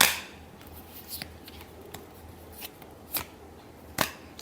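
Tarot cards being shuffled in a few quiet, separate bursts of sharp riffling slaps, with near-silence between them and no talking.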